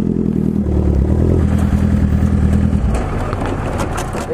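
Motorcycle engine running loud and close, a rough mid-pitched rumble with some clatter that eases slightly toward the end.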